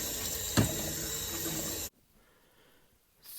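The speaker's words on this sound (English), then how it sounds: "another trick is to run them under some cold water to stop them from cooking" Cold tap water runs steadily onto boiled eggs in a sink for about two seconds, with one brief knock, then cuts off abruptly into near silence before a faint return.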